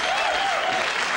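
A 1981 Tonight Show studio audience applauds in a dense, steady wash of clapping that fills the whole moment, with a faint whistle-like tone riding over it.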